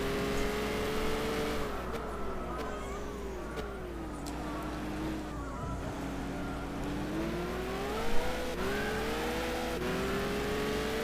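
Peugeot 908 race car engine in the racing game Gran Turismo 6, a loud sustained high-pitched whine that rises and falls through gear changes, with a brief squeal or bump near the end and no talking.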